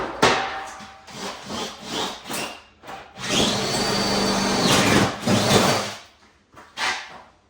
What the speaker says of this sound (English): I think I'll drill it on the seam